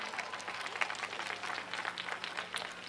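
Steady applause from a crowd, dense overlapping claps holding at an even level throughout without a break.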